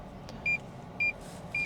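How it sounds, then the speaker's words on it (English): A car with hand controls gives three short, identical electronic beeps at an even half-second rhythm over a low steady cabin hum, close and clear, no speech. "Sorry about the beeping."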